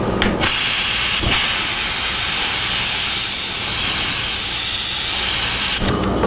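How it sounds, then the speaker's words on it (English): Lacquer thinner sprays through a Badger 250 airbrush in a loud, steady hiss that runs for several seconds, with brief clicks at the start and a cut-off at the end. "And I run that lacquer thinner through there."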